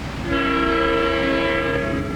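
A train horn blares loud and close in a steady sustained chord over low rumbling rail noise, sounding from passenger train number 1 near Champaign.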